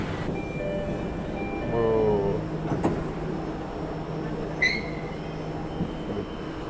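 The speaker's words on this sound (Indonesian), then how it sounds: "Ayo, yang ada di Jakarta, sempatkan untuk naik MRT." A Jakarta MRT subway train runs along the line with a steady rumble, rising wheel squeal and a brief high electronic tone, heard from inside the carriage at moderate loudness.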